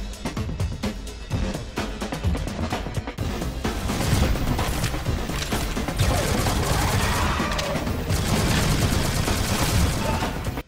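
The Wintermute SMG firing in a video game, rapid bursts of gunfire packed tightly together over a dense, loud action mix, continuous and close throughout.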